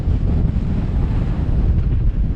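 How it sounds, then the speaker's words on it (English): Strong crosswind buffets the microphone on a wet, windy mountain bike enduro track, the Top Chief at Fort William, a loud continuous low roar with no talk. "As you'll see, Liam and I chose a pretty wet and windy day to take on the Top Chief."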